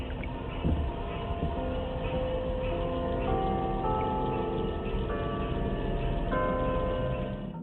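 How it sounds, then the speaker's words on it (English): Church bells ring and overlap, each note sustained and fading slowly, forming a steady, resonant chime over a muffled background. "He was puzzled by the sound of church bells ringing"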